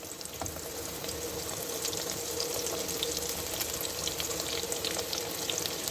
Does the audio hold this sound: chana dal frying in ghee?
yes